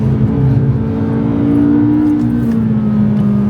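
A McLaren supercar on the Silverstone circuit during a track day, heard on board as a steady, loud engine drone with a rising whine, no talk over it.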